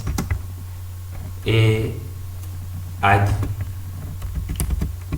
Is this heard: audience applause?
no